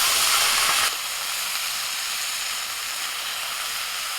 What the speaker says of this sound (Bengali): এবার চারটে শুকনো লঙ্কা ফোড়ন দিচ্ছি পেঁয়াজ তেলে আর আলু ভেজে নেবো